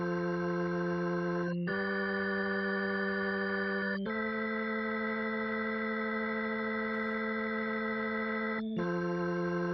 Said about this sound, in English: So it's quite a nice drawbar organ sound